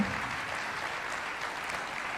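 Audience applauding prize winners at an award presentation, steady even clapping from a group, continuous and fairly uniform for the whole stretch.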